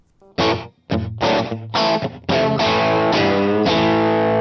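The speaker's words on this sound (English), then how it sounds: "borrowed the reverb styles, the extensive list of reverb styles from the vocal section for the guitar" Electric guitar chords strummed in short bursts, then a sustained ringing chord, drenched in a splashy, metallic spring reverb from a VoiceLive 3 that lingers between hits.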